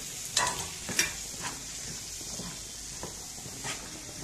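Chickpeas cooking with chopped tomatoes in a pan, a soft sizzle under a few scraping stirs of a spoon, close and fairly quiet, with no talking.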